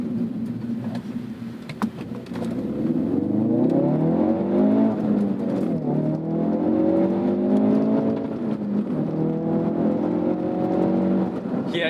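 A 2018 Ford Focus RS engine revs hard and climbs through the gears, its pitch rising steadily under full throttle, loud and close from inside the cabin.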